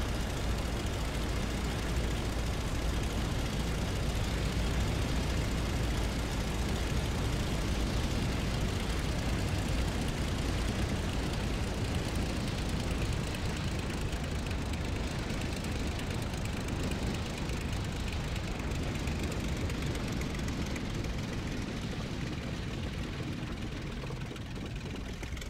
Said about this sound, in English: As I back the engine off coming into land, the plane will throw itself around a little bit